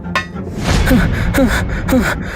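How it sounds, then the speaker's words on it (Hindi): A cartoon soldier gasps for breath in quick, heavy pants, several rasping inhalations close and loud, alone without talk. "तभी एक सैनिक हांफता हुआ भीतर आया।"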